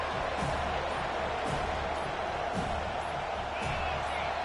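A stadium crowd in the video game College Football 25 gives off a steady, dense roar that stays loud and unbroken throughout.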